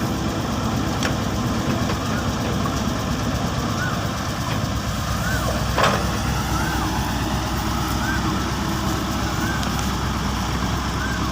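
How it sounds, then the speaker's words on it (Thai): A six-wheel dump truck engine under heavy throttle while climbing a ramp, a loud, steady, rough diesel roar held throughout, close by, with faint voices in the background. "โอ้รถเร่งอยู่แล้วขึ้นได้สวยมาก"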